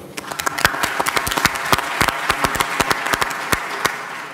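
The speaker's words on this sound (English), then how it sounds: "Applause to you." An audience claps at a World Economic Forum closing plenary panel session, a steady patter of many hands that thins out toward the end.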